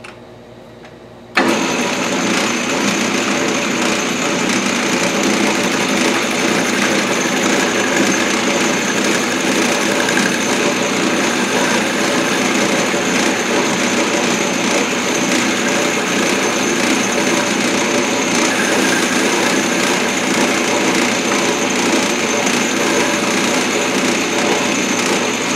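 A metal lathe cuts down a bolt to make an arbor for DP20 gear cutters. The machine starts abruptly, then runs in a steady loud motor hum with a constant bright whine and faint chatter close by.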